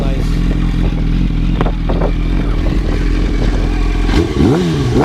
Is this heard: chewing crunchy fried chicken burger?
no